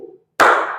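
A single sharp hand clap from students in a classroom, a loud crack with a short fading tail, following a brief stretch of silence.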